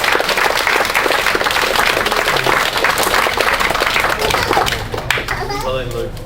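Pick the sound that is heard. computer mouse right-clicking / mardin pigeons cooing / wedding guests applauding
wedding guests applauding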